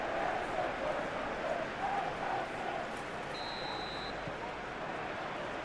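Stadium crowd roar in a football video game match, a dense steady wash of cheering under a commentator's voice, with a faint whistle-like tone partway through.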